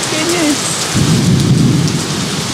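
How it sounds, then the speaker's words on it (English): Heavy rain pours steadily while a deep roll of thunder rumbles loud and close, swelling about a second in and sustaining over the constant hiss of rainfall. "You hear the thunder and lightning?"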